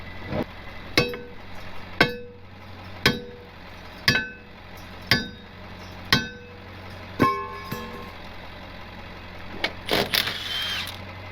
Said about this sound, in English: I need a real hammer.